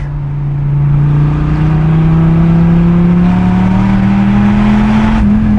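A Dodge Viper's big engine roars under throttle, one loud, continuous close-up drone that climbs slowly in pitch as the revs build.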